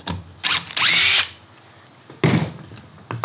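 A power driver unscrews composite deck fastener clips in short whirring bursts, two close together, then another and the start of a fourth, with quiet pauses between them.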